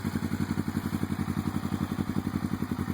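Suzuki GS500F motorcycle engine fitted with a one-off custom exhaust of dual Yoshimura TRS mufflers, idling close by with a steady, loud, even pulsing throb.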